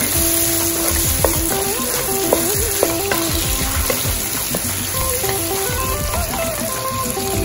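Half a kilo of peeled, deveined prawns fry in a spice mixture, giving a loud, continuous sizzle with occasional stirring clicks. A faint melody plays underneath.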